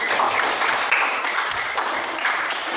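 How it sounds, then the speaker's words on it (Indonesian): Schoolchildren in an Indonesian classroom clap together in a short, busy burst of applause during a lesson, with the sound close and fairly loud. "Iya, tepuk tangan."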